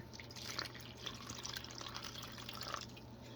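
Water trickles and splashes steadily, a continuous close pour with a faint low hum underneath.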